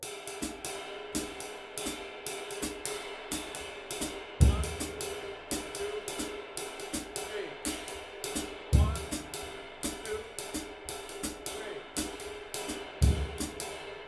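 Jazz drum pattern played slowly at an uptempo-style practice groove, two quick notes then one on each beat, with steady cymbal-like ticks and three heavier low thumps spaced evenly; no talking.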